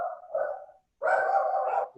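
Two bursts of dog barking from dogs in a home, a shorter bark followed by a longer, louder one after a brief pause, close by and clear with no talk over them.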